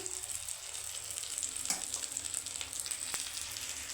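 Eggplant and egg omelette frying in a little oil over low heat, a steady close sizzle with a few faint scraping touches, no talking.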